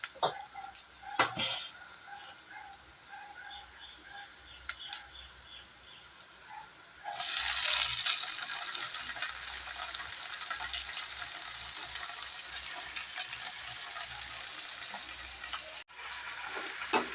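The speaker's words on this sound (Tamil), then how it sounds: "எல்லாம் போட்டு நல்லா கிண்டுங்க. நல்லா முதல்ல வதங்கட்டும்." Drumstick leaves, added to sautéed onions, mustard seeds and dried chillies, are stirred in a pan; a few scrapes and clinks give way to a loud, steady frying sizzle that continues close by.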